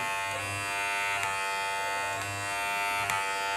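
Close, steady electric buzz of Kemei KM-735 hair clippers running continuously, with slight pitch wobbles and faint clicks, no voices.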